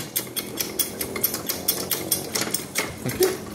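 A 2-ton hydraulic jack is pumped up toward its maximum height, making a quick regular series of close metallic clicks and creaks with a faint hum behind them.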